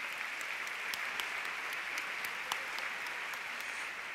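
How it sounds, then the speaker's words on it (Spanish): Audience applause at a carnival show in Santa Lucía de Tirajana, a steady wash of crowd clapping, moderately distant and fairly quiet, with a few sharper individual claps standing out through the four seconds. "Un aplauso para nuestro nuevo Goofy."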